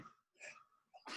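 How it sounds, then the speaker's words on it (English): A person sneezing once, close and fairly faint, with a breathy intake before a sharp burst at the end. "I sneezed."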